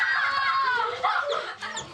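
A chicken produced in a stage magic trick clucks in a close, fairly loud burst of squawky calls with a few shorter clucks trailing after.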